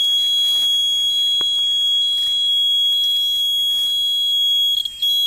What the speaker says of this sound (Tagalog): Nag-beep siya ng 2 beses dito.